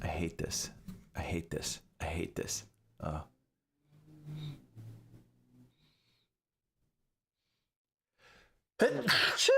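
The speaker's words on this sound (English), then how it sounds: "Oh, I gotta sneeze." A person talks briefly, then pauses with slow, breathy inhales before a sudden, loud sneeze bursts out close by at the end.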